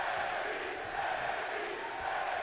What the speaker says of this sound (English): The crowd is going crazy for this match.